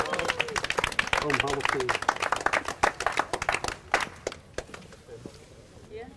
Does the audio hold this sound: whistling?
no